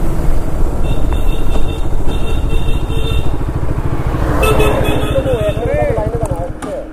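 A TVS Apache RS200 motorcycle rides along a road, its engine droning steadily and closely throughout while wind rushes past, and a rider talks over it the whole time.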